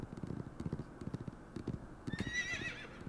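Horses in a horse riding video game: brisk clip-clopping hooves in an uneven rhythm, followed by a high, wavering neigh near the end, all fairly close.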